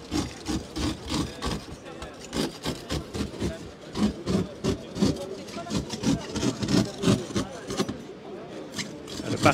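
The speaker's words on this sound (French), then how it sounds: "Le pare-brise est en train d'être scié." A car windshield sawn by hand during a police accident-rescue simulation, with steady rhythmic rasping strokes repeating throughout, loud and close, under a faint background of voices.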